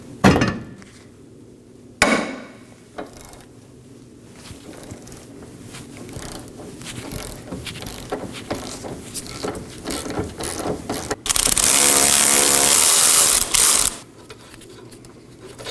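A ratchet wrench clicks rapidly and steadily while a rear suspension bolt is loosened on the knuckle of a 2018-2024 Chevrolet Equinox, with sharp metallic knocks and a loud, dense burst of ratcheting near the end, close up.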